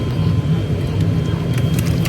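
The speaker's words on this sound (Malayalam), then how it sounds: "എന്തൊക്കെയാ സൗണ്ട് കേൾക്കുന്നുണ്ട്. എ സി ആണ്." Steady whooshing air conditioning fills an Alliance Air airplane cabin, a constant low drone with a faint higher hiss, unbroken throughout.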